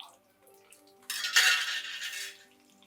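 A sudden sizzle bursts in after a quiet moment and keeps hissing steadily as chopped small onions drop into hot oil for sambar, with faint kitchen clinks before it.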